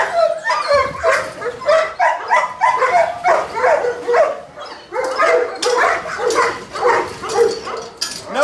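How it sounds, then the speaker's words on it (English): Dog in a K9 training yard barking and whimpering, loud close rapid barks mixed with whiny yelps in a continuous agitated stream, with a brief spoken remark. "This is gonna be an awesome dog."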